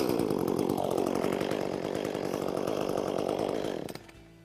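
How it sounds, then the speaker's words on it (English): A gas chainsaw engine roars loudly and steadily, then winds down and cuts out near the end, leaving quiet. "you're ready to start your chainsaw"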